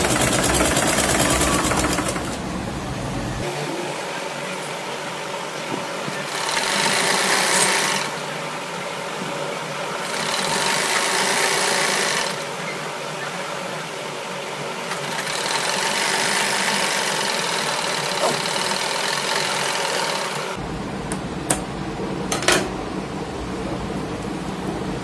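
A sewing machine stitches a scarf into a prayer hijab, whirring steadily in long runs with slight swells and dips, ending with a few sharp clicks; nobody speaks.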